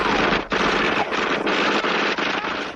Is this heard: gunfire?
yes